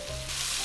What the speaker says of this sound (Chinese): 炒的差不多了，我们把鸡蛋搁进去，搅拌均匀。